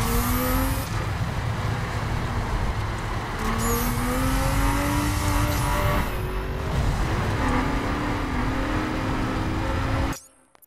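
A car in The Crew racing game speeds up hard on a nitrous boost, with a loud, steady engine roar and rising gear whines that run almost the whole time before cutting off abruptly.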